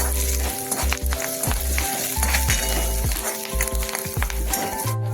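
Eggplant sautéing in hot oil with asafoetida, a loud, close, continuous sizzle with rhythmic stirring scrapes and occasional faint clinks.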